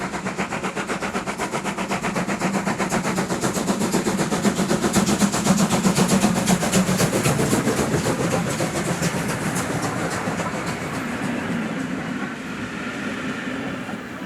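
Two Märklin model railway locomotives hauling a heavy train up a long ramp, a steady close mechanical rolling hum with fast rhythmic wheel clicking that holds evenly throughout, without voices.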